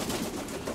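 Pigeons softly cooing in a loft, a low murmuring coo behind faint background hiss, brief and quiet with no speech.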